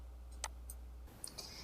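Two or three faint, quick clicks, like a computer mouse, close by in a quiet room.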